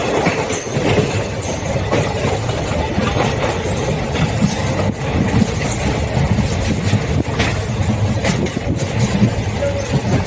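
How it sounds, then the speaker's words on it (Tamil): Express train 16843 from Tiruchirappalli to Palakkad pulling out of Trichy Fort station, a loud continuous rumble of wheels on rails with rattling carriage noise and intermittent clanks, heard from inside the moving coach. "நாம் திருச்சிராப்பள்ளி கோட்டை ரயில் நிலையத்திலிருந்து புறப்பட்டு விட்டோம்"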